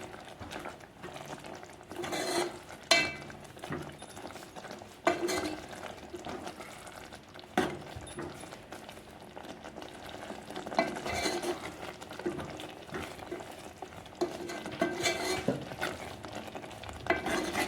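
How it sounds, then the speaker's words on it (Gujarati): Sev tameta curry stirred in a pan with a spoon, giving repeated scraping and soft wet stirring strokes over a low simmer or sizzle, fairly close and steady, with no talking. "આપણે એને હલાવી નાખશું આ રીતે"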